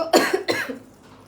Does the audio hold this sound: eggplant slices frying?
no